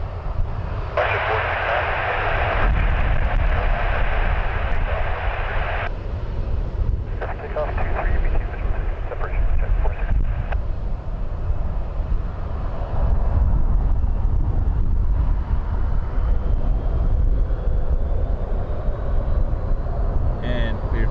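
An airliner begins its takeoff roll at Toronto Pearson airport, a loud, steady jet-engine roar rising over about twenty seconds, heard from a distance, with a voice talking over it.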